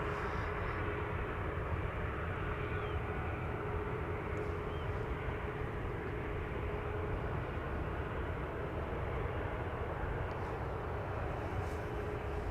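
A KLM Boeing 737 airliner at Amsterdam Schiphol Airport gives a steady, distant engine rumble and broadband roar that holds evenly throughout, with no voices.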